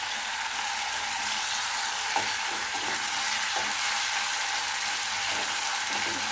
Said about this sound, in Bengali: মশলাটা আমি একটু ভালোভাবে কষিয়ে নিচ্ছি